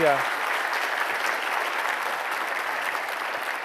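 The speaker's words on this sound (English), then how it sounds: "let's give him one more round of applause" An audience at a conference applauds the presenter with a dense, even round of clapping that carries on steadily; a brief voice sounds at the very start.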